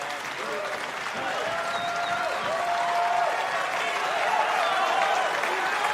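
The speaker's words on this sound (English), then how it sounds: "Berlin crowd showing their appreciation for Sebastian Santana-Guerres getting back to his feet" A Berlin arena crowd at a PFL Europe mixed martial arts event claps and cheers steadily as a fighter gets back to his feet, a dense, sustained wash of applause with some voices and whistles mixed in.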